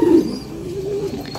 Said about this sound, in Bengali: এই যে কবুতর বাচ্চাটা, এখানেও বাচ্চা, এখানেও বাচ্চা,